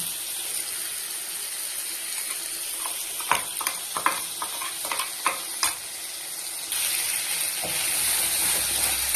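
A spice paste of onion, tomato, ginger and garlic sizzles steadily in a wok, with a series of sharp clinks and scrapes from stirring and the hiss swelling near the end.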